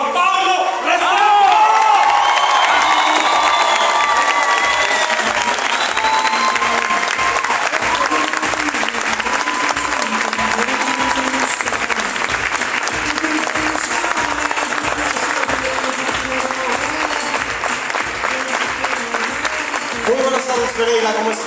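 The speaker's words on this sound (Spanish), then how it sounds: "Ayúdenme a recibir con un muy fuerte aplauso" Big event audience in Pereira, Colombia greets a speaker with long, loud, dense applause and some cheering, steady throughout with a voice faintly beneath it.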